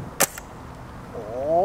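A single sharp gunshot from a mil sim video game rings out near the start, followed by quiet, then a rising voice-like tone at the end.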